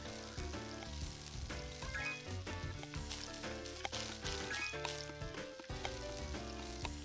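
Frying pans sizzle in the cooking video game My Universe Cooking Star Restaurant, a steady crackling hiss under busy game music, with no talking.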